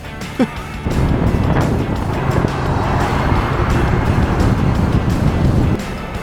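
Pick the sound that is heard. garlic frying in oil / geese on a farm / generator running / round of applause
generator running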